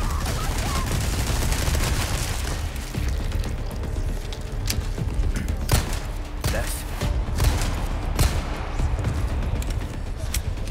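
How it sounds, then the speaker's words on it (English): Gunshots ring out in a tense Resident Evil 4 Remake fight, loud broadband cracks repeating irregularly over a dense, noisy game soundscape while a person talks. "I'm shooting at him"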